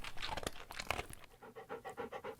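A dog pants in quick, steady rhythmic breaths, close and clear, with a few louder sniffs and movement sounds at the start.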